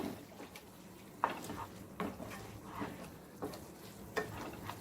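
Chicken frying in oil with gongura leaves, a soft steady sizzle with occasional sharper pops and crackles, fairly faint and close, with no voices.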